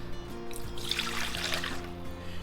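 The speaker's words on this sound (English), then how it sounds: "I have here water." Water poured in a home kitchen for making siopao dough, a steady close trickle and splash lasting about two seconds under a faint background hum, with no talking.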